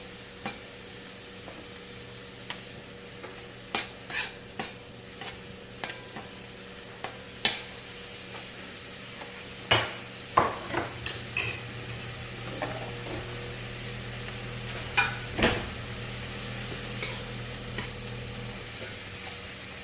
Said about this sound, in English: I'll saute these two for a minute.